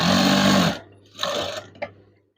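A sewing machine stitches a fabric curtain at the eyelet heading with one loud sustained whirring run that stops abruptly, followed by a few fainter short mechanical bursts and clicks.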